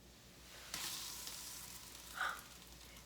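Vinegar reacting with baking soda and water in a tray, giving off a faint, steady fizzing hiss that rises suddenly and carries on with a small swell near the end, with no voices.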